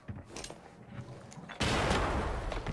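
A grenade thrown in a shooter video game, quiet scuffling and faint clicks followed by a sudden loud blast that holds as a dense roar to the end.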